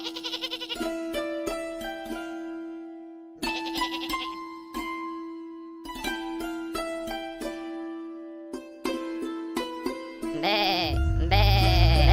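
Sheep bleating in an animated story about counting sheep, several bleats spaced out over bright, tinkling tonal music, with a louder rushing noise building near the end.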